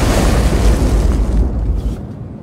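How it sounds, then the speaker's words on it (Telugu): A bomb blast in a Telugu film scene lands as a loud, deep rumbling boom that rolls on for about two seconds before fading out. "చూస్తే అది బంతి కాదు, బాంబు."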